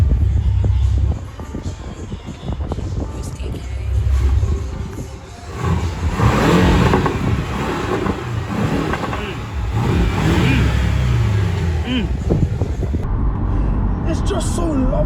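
A Porsche 718 with a two-litre engine accelerates on the road, its engine note rising and falling steadily throughout, with a voice talking over it.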